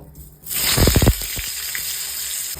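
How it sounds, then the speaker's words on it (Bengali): Salted potatoes drop into hot oil in a wok with a sudden loud hiss. A burst of sharp crackles follows, then it settles into a steady close sizzle. "কড়াইতে তেল দিয়ে দিয়েছি, তেলটা গরমও হয়ে গেছে, সামান্য লবণ দিয়ে আমি আলুগুলো দিয়ে দেব।"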